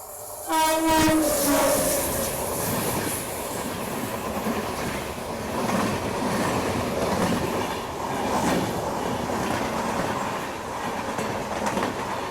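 A train at a railway station in Uttar Pradesh sounds its horn near the start, then a steady, loud rumble with rhythmic rail clatter continues throughout, without speech.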